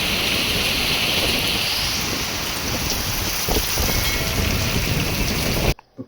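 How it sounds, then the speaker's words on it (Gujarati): Rain falls outdoors in a main market street, a steady, dense hiss mixed with gusty wind noise that continues without a break for about six seconds before cutting off abruptly near the end. "મસ્ત વરસાદ આવી ગયો છે અત્યારે"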